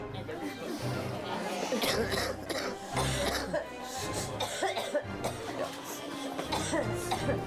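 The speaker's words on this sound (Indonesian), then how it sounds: "Batuk terus menerus, ya." Repeated coughing in harsh bursts, some close together, with murmuring voices and a bit of throat clearing around them.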